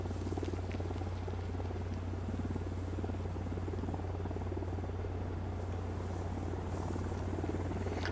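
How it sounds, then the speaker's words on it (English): A helicopter approaches in the video game Ghost Recon Wildlands, a steady low rotor drone running throughout at a fairly even, moderate level with no talk over it. "There's a chopper coming."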